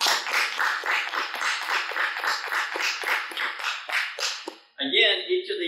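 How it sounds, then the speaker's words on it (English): Applause for Teachers of the Year at a school district back-to-school convocation: steady, rhythmic clapping from an audience that continues for several seconds, then breaks off as a voice begins speaking. "let's give a round of applause to our Teachers of the Year."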